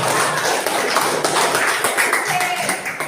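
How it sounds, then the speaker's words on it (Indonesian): Classroom pupils clap their hands together in a steady, dense patter of many hands lasting a few seconds, close and fairly loud, with a few voices mixed in. "Beri tepuk tangan untuk kalian semua ya."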